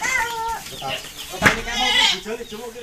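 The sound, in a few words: goat bleating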